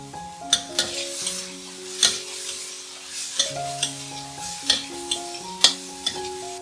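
Seasoning and spaghetti stir-fried in a pan, with repeated sharp clinks and scrapes of a utensil against the pan over a soft sizzle, in an irregular stirring rhythm with no talk.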